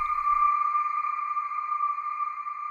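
Omnisphere synth keys patch with a haunting character, slow decay and long release, holding one steady, bright sustained tone that rings evenly and alone for a few seconds after a brief low thump at the start.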